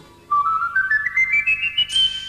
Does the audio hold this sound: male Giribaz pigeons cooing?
no